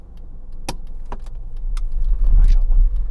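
A car is started for a hill start during a driving lesson in Bletchley: a few sharp clicks and a rattle like keys, then the engine's low rumble swells up close and holds.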